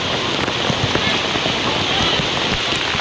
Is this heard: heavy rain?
yes